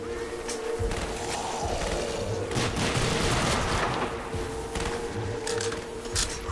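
Sustained automatic gunfire from a machine gun rattles in Call of Duty Black Ops zombies, dense and loud throughout with booming bursts layered over game noise.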